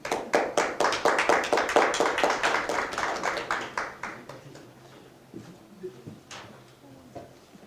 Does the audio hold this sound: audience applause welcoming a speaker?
yes